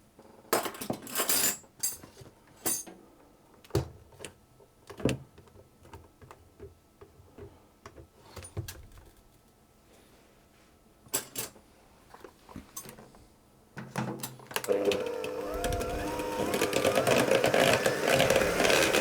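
Ginger kisses batter being mixed in a bowl: irregular clinks and scrapes of a utensil against the bowl, in bursts with quiet gaps, then a louder continuous whirring mixing near the end.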